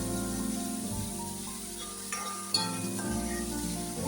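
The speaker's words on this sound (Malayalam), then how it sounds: "ഇത് നന്നായിട്ടൊന്ന് വാടി തക്കാളിക്കായി ഒന്ന് വെന്തുടങ്ങുന്നത് വരെ നമുക്ക് വെയിറ്റ് ചെയ്യും" Chopped onions and tomatoes fry with salt in a pan for egg bhurji, giving a steady, close sizzle with a couple of faint stirring clinks and no talking.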